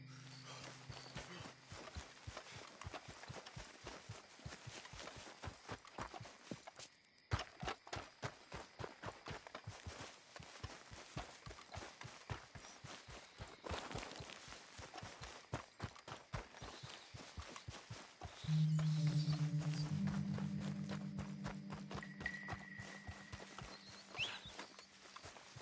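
Horse hooves gallop in a fast, even rhythm throughout in Red Dead Redemption 2, close and clear; a brief pause interrupts them, and a droning tone rises near the end.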